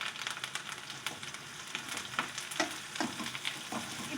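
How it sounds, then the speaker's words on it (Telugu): Onions frying in a pan with green chillies and curry leaves for egg bhurji, giving a steady, close sizzle broken by light scraping and stirring clicks. "ఇప్పుడు ఆనియన్స్ ఫ్రై అయ్యాయి కదా"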